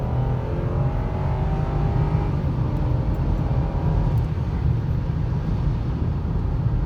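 A Lexus LS430 accelerating hard from a standstill, heard from inside the cabin as a steady, loud engine drone with rising tone and heavy low rumble throughout, no talking.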